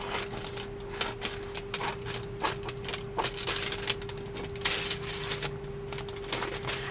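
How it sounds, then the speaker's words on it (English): Scissors snip through paper to cut out a window for a junk journal envelope, a close run of quick crisp clicks and rustles over a steady hum, with no one talking. "So I'll just cut this out."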